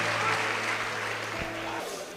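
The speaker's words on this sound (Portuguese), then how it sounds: "os que podem, tomem o seu assento aplaudindo a Jesus" A Portuguese-speaking church congregation applauds steadily as people take their seats, with sustained crowd noise and a low hum underneath throughout.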